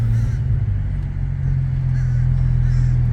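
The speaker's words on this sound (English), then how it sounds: "The car blowing off." A Porsche 911 engine idles with a steady, heavy low rumble, the note swelling slightly as it revs up around the middle, loud and close throughout.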